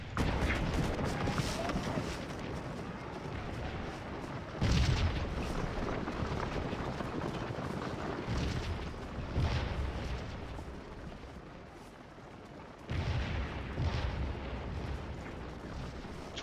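Cannon artillery fire in the Scourge of War Civil War battle game, the Battle of Stones River: a dense, continuous rumble of booming shots with several louder bursts, heavy and sustained without pause.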